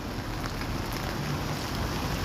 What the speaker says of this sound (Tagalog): Ay, pero mahina lang ang ulan dito sa Kuwait.